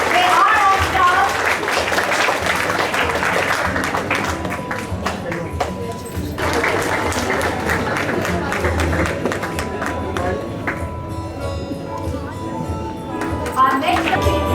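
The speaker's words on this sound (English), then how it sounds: "Huge round of applause, everyone." Applause from students and staff at a Baisakhi school assembly: steady, dense clapping fills the room for the whole stretch, with voices and crowd noise mixed in underneath.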